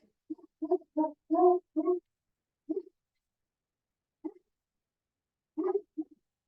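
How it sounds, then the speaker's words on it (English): A dog barks in short bursts, several quick barks followed by a few scattered single barks, heard at a moderate distance with no talking. "I apologize if you hear my dog barking like a lunatic in the background"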